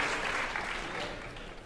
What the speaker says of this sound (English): Let's give them a round of applause, man.